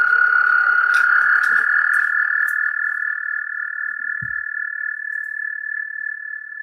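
Recorded frog croaking played back through a speaker, a steady sustained trilling drone that holds loud and unbroken throughout, with faint background noise and a brief low thump near the end.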